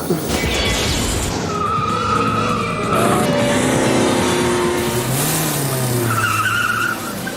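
Loud car tyres squeal and skid continuously during a Bond film stunt scene in The World Is Not Enough, with a remotely driven car, the screech rising and shifting over a roaring engine for several seconds.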